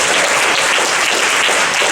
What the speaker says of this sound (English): Give the guys a hand